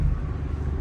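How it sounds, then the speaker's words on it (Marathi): Car being driven on a road through a ghat section, a short low steady engine and road rumble from inside the vehicle. "दादा आपली गाडी चालवत आहे"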